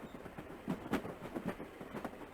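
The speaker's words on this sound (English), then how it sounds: "Heading on a transport train." A transport train rolling on rails in the video game Battle Angel Alita, a faint, steady rumble with soft rhythmic clicks and thumps of wheels over track joints, heard alone.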